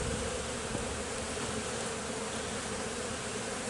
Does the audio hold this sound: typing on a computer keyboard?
no